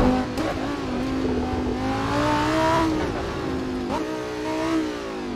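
Lamborghini Gallardo GT3 engine in a hillclimb racing game, a loud revving tone rising and falling with gear changes and throttle lifts, alone without talk.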